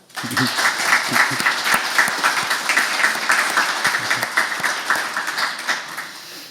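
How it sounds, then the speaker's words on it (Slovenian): A church congregation at a Sunday service applauds warmly. The clapping is dense and rhythmic, lively at first and then slowly thinning out. "In za te naše junake, ki so minuli teden vihteli lopate, naj bo en aplavz."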